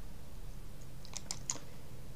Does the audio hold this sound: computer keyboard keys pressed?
yes